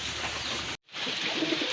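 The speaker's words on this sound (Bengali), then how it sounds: "এটা হচ্ছে আপনার এক জোড়া অরিজিনাল পিওর কাগজি কবুতর" A pair of pure white Kagji pigeons cooing close by, soft rumbling calls over a steady hiss, broken by a brief cut of silence partway through.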